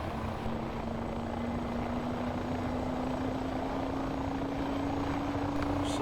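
A simulated helicopter turbine in the FlightGear simulator, for a CH-47 or UH-1N, spools up as a continuous engine drone whose tone rises slowly and steadily throughout.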